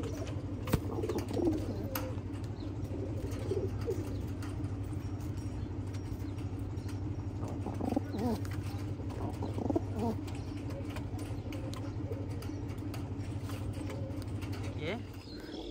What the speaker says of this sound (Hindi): भाई लोग कबूतर दिखा रहे हैं ना